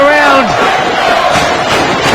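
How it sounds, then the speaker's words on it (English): Wrestling fans in an arena in Wheeling chant and pound on the barricade, a loud continuous roar of crowd noise with a shouted voice rising above it at the start. "Arena floor shaking as the fans pounding on the barricade, chanting away."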